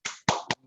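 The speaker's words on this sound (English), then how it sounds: "I don't know if you can hear my clapping" Hand clapping during an online meeting's inaugural session: three sharp, close claps at an uneven pace, the first two spaced apart and the third quicker, then quiet.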